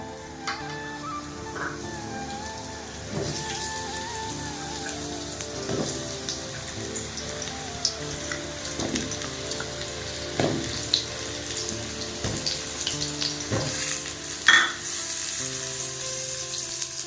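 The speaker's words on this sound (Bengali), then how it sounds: "তেলটা আমার গরম হয়ে গেছে, দিয়ে দেবো আলু।" Potatoes frying in hot oil in a wok for chicken curry, a dense rain-like sizzle with crackling spatter and occasional stirring knocks, swelling louder midway through.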